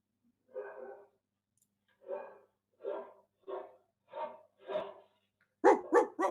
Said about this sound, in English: The last of his barks is more trying to call for humans to come and help him.